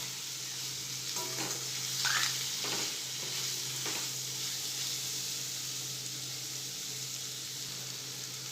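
Rice and spices for Rajwadi pulao are stirred in a hot pan, with a steady sizzle and a few scraping strokes of the spoon, close and alone.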